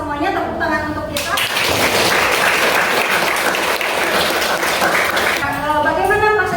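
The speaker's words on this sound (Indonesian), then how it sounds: "tepuk tangan untuk kita" A class claps together at the end of a history lesson, loud brisk clapping for about four seconds, with a teacher's voice heard briefly before and after.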